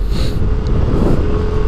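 Big trucks rumble past on a road near the new Sicanang bridge in Belawan, a loud, continuous low roar of heavy engines and tyres close by, with no one talking.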